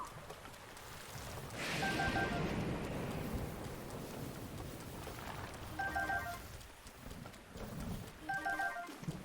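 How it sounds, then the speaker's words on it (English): A rainstorm hisses steadily in Breath of the Wild while a deep thunder rumble swells early on and slowly fades, with a few faint chiming game cues over the rain. "The fact that it's thundering is most unwelcome."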